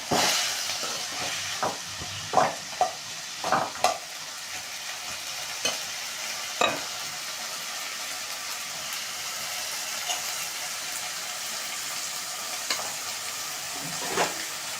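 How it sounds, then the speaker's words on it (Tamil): Ingredients for a spicy tomato chutney, seasoned with salt, fry in a pan under a steady sizzle, broken by sharp scrapes and clacks of a spoon stirring against the pan, frequent at first and then sparser. "இதெல்லாம் நல்லா வதக்கிக்கணும்."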